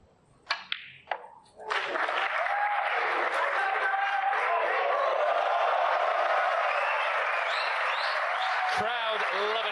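A snooker crowd bursts into sustained, loud applause and cheering after a few sharp opening knocks, the clapping holding steady to the end before briefly dipping.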